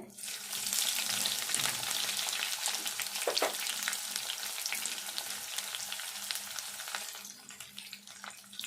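Onions sizzling in a hot pan for old-style onion masala rice, a dense continuous frying hiss with occasional crackles and stirring scrapes, close and steady throughout.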